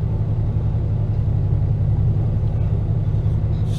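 A Ford 7840 tractor engine runs steadily while the tractor backs up, a close, continuous low rumble with a constant droning hum and no breaks.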